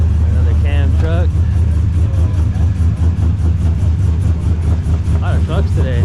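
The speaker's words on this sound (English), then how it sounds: "Another cam truck." A cammed truck engine rumbles low and loping at a gas station car meet, a steady throbbing idle heard close, with people talking over it throughout.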